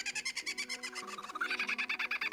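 A lyrebird mimicking other birds' calls, a fast rhythmic series of repeated pulsing notes that shifts partway through to a brighter, higher trill, clear and close with no talk.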